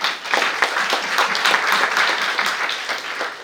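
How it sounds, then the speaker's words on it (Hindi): An audience at a seminar keynote address on Sindhi language claps steadily throughout, a dense, continuous patter of many hands at moderate loudness with no voices over it. "हाँ ताली बजा सकते हैं।"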